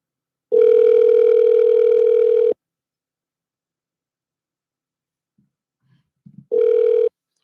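A telephone call rings out on the line, two long steady ringback tones separated by silence, loud and alone with no voice answering.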